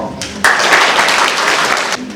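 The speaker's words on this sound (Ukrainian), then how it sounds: "Тож нехай ці щирі оплески будуть маленькою вдячністю вам." Applause from a ceremony audience honouring supporters at a student science research defense, a dense sustained wash of many hands clapping close and loud for about one and a half seconds, with quieter sound before and after.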